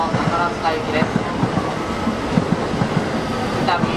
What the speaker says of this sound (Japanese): 4番乗り場には JR 神戸線方面に参ります快速電車の姫路行きが到着をいたします